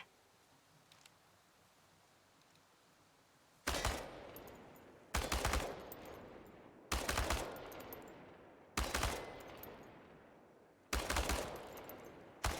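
In Chernobylite, an automatic weapon fires at tin cans on a practice range: five loud, sharp bursts of rapid shots, about a second each, evenly spaced after a few quiet seconds.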